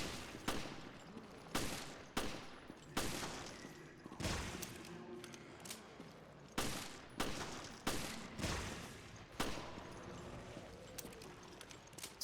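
Gunfire in the Resident Evil video game rings out as a series of sharp, loud shots spaced irregularly about a second apart over steady background game ambience, with no talking.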